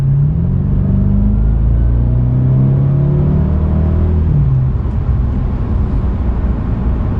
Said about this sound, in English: I'm gonna put it in sport and then let you guys hear the exhaust